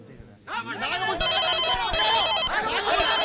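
A telephone bell rings in loud repeated bursts, overlapping with someone speaking and background music.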